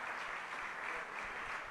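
A faint, steady patter of audience clapping fills a university public lecture hall in a brief, distant burst of applause.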